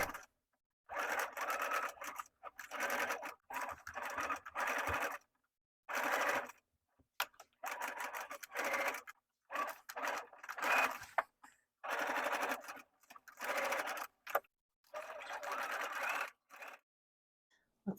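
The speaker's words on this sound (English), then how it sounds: "So I am sewing either right on top of the stitch or kind of right beside it" A sewing machine stitches a shirt in repeated bursts of running, each a second or two long and separated by short pauses, close and fairly loud with no talking.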